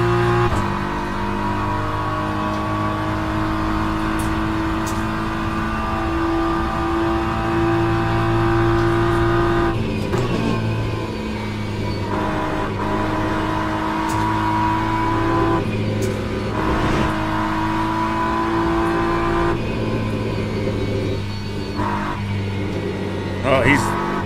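GT3 race car engines roar in Le Mans Ultimate at Le Mans or Sebring in a Corvette or BMW, a loud sustained drone whose pitch climbs and drops with gear changes while someone talks over it.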